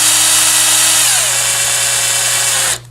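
A power drill bores a screw hole through PVC pipe. A loud, close, continuous motor whine drops slightly in pitch partway through as the bit cuts, then cuts off abruptly.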